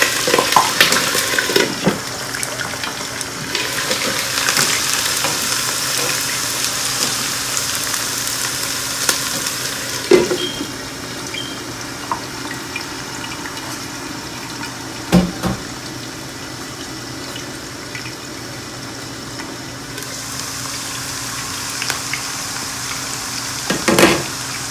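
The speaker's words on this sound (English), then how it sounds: "First we will fry our potatoes." Potatoes frying in a pan with a steady, broad sizzle throughout, interrupted by a few sharp clicks and scrapes of stirring; no voices.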